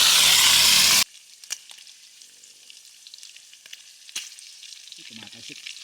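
Cooking oil sizzling and spattering in a pan at a riverside campsite, a loud dense hiss for a second that then cuts to faint scattered pops and crackles.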